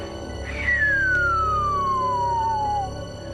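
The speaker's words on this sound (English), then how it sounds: "They're long, kind of descending pitch signals that sound something like." One long whistling atmospheric signal glides slowly downward in pitch over a few seconds, above a steady low background hum.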